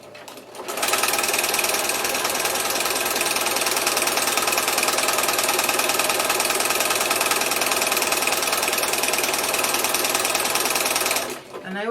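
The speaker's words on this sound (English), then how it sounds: "you need to go a little bit slower with your sewing machine" A sewing machine stitching slippery fabric for flag poi, running in one continuous close rapid clatter for about ten seconds before stopping abruptly.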